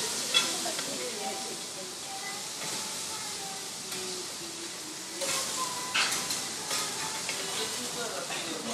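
Yakisoba stir-frying on a hot griddle, with a continuous loud sizzle and hiss and occasional scraping and flipping sounds, while people talk faintly in the background.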